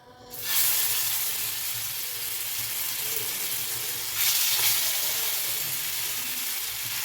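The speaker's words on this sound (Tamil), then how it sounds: "நான் 3 மூணாக போட்டு பொரிச்சுக்கிறேங்க, நிறையா போட வேணாம்" Ayala (Indian mackerel) fish frying in hot oil, a loud steady sizzle that bursts in at once and swells again midway as more fish go in, with no voices.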